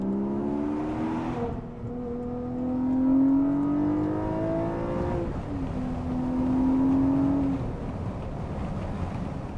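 A 2022 Porsche Boxster GTS 4.0 engine pulling hard while driving, heard from inside the car: two rising, droning acceleration sweeps separated by a brief gear change, steady and fairly loud with road noise underneath.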